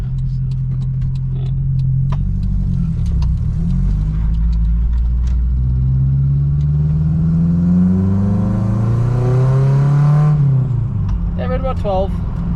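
A 1987 Toyota pickup engine pulls hard at full throttle on the highway, a loud, steady rising drone that climbs in pitch over several seconds, drops briefly, then builds again, with road rumble beneath and a voice speaking near the end.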